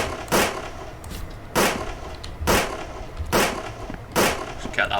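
Enemy gunfire in a first-person video game, five loud evenly spaced shots roughly a second apart over a constant background rumble.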